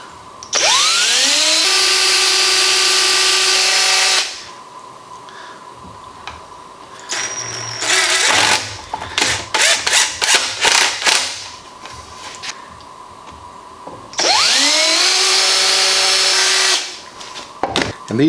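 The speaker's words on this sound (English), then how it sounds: "And then using this drill bit, which has a built-in countersink" A power drill fitted with a countersink bit bores into wood for a rustic Peloton rack, whining up to speed in long runs and stuttering in rapid short bursts in between, loud and close with no talk.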